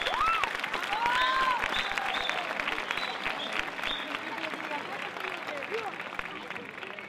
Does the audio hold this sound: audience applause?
yes